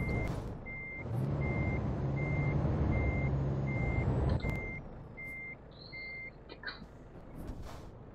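A truck backs up in Euro Truck Simulator 2, its reversing alarm sounding as a regular series of evenly spaced beeps over a low engine rumble, followed by a few shorter beeps and a hiss near the end.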